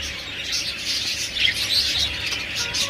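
Finches in an aviary give a steady stream of light, high chirps and tweets, close and moderately loud over a faint background hum.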